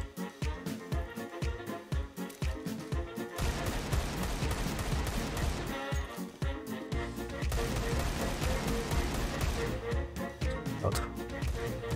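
Counter-Strike 2 gunfire: bursts of rapid automatic shots in tight rhythm, sustained sprays lasting several seconds between short pauses, crisp and close.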